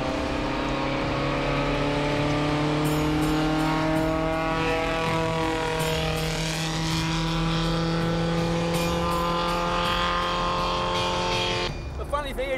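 A small classic sports car engine drones steadily and loudly while driving, its pitch shifting slightly as it pulls along, with road noise beneath and voices faintly in the cabin.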